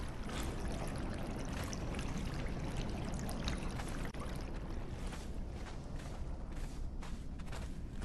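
In a Conan Exiles dungeon, water pours in to fill a room, a constant loud rushing, churning wash that continues unbroken throughout with no voices.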